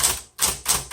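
A 1970s Smith Corona Electra 210 electric typewriter is typed on in a quick rhythm of sharp, loud, close key strikes, with no voices present.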